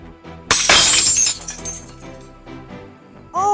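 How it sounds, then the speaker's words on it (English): A glass cup knocked off a kitchen counter by a kicked ball shatters with one sharp loud crash, followed by tinkling fragments settling and a few light clinks. "Kevin kicks the ball high and breaks a glass cup sitting on the counter"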